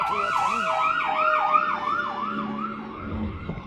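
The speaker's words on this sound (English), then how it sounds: "I'm not even going to remove that ambulance sound" An ambulance siren wails past in a steady rising-and-falling sweep, loud and close at first and then slowly fading as it moves away over a soft background hum.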